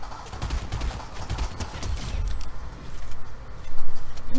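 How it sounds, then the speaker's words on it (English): Rapid bursts of Fortnite gunfire crackle in quick succession, growing louder and denser toward the end, with no talking. "Oh, I heard gunshots."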